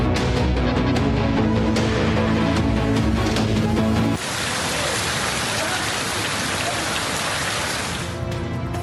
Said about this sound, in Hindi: खैबर पख्तूनख्वा के मुख्तलिफ इलाकों में बादल फिर जमकर बरस पड़े